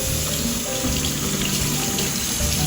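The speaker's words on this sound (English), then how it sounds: "we're going to get some cold water and run them under water and clean them up a little bit" Cold tap water runs steadily over raw chicken breasts in a kitchen sink, a close, continuous splashing hiss with no speech.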